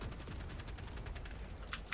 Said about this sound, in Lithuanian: iš kulkosvaidžių šaudo